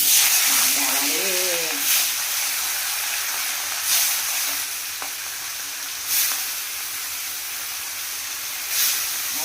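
Pieces of fish fry in hot oil, a steady loud broadband sizzle and hiss that swells briefly every couple of seconds as the pieces shift, with a short spoken phrase near the start.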